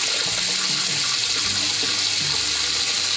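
Hot water sloshes and runs steadily in a sink where beer bottles soak so their labels peel off, a continuous close wash with faint low thumps of bottles shifting underneath.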